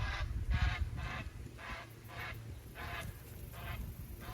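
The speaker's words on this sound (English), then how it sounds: "Somebody disturbed those ducks." Ducks on a lake at an Arkansas state park call out after being disturbed, a run of about seven evenly spaced honking squawks carrying across the water at moderate distance, with no talk.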